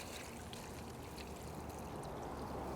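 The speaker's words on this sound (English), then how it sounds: "We're going to top it off with 1 gallon of water." Water is poured by the gallon into a cooking pot of brisket baked beans, a steady, continuous splashing rush that stays even and fairly quiet throughout.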